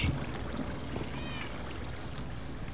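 A cat meows in the Minecraft-based Tekkit game, a couple of short mewing calls rising faintly over a steady background hum of water and game ambience.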